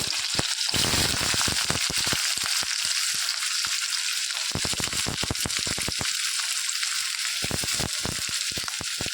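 Large chunks of onion frying in oil in a pan, a loud continuous sizzle broken by dense crackling pops and spatters throughout.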